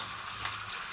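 An egg frying in a cast iron pan gives a steady, close hiss of sizzling that runs unbroken through the whole second, with no talking.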